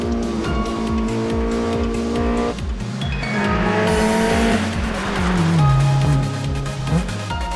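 Race car attacking a hill climb on a public mountain road, engine loud and close with rapid rising revs and gear changes, tires squealing through the corners.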